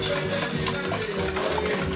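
A wire whisk beats several eggs for a French fries omelette in a bowl, a steady, fast scraping and clinking rhythm close by that runs without pause.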